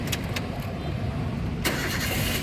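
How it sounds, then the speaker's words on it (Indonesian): A 2011 Toyota Avanza 1.3 G manual car starts up with a brief cranking burst, then settles into a steady low idle rumble, close and fairly loud, with no speech. "nah sekarang berikutnya kita coba nyalakan mobil"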